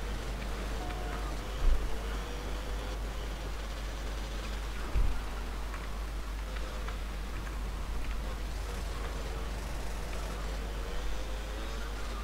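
Rain falls steadily in GTA Vice City, a soft even hiss under a constant low hum, with a couple of brief dull knocks and no talk.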